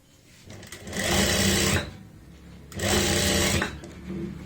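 Sewing machine stitching a pocket onto a garment, two sustained whirring runs of steady stitching separated by a brief quieter pause, close and loud.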